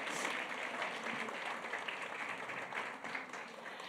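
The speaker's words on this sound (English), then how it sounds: "Let's give them a huge round of applause." Audience applause at a women's empowerment conference in Cape Town, a steady wash of clapping from a crowd that holds for the full few seconds at moderate, fairly distant level.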